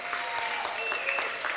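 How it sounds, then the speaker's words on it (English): A short burst of steady crowd applause at a charity giving event, fairly loud, with a voice faintly audible underneath. "Give them all another big round of applause"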